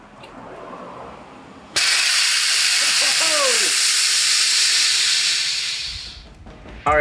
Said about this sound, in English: we'll turn it on out there and see if the steam comes out